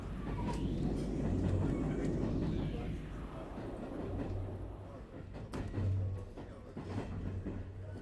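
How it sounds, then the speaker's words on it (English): A train runs steadily in Umineko When They Cry, with a continuous rolling rumble and faint clickety-clack that swells and eases throughout. "Except for the sound of the train running, the interior was completely silent."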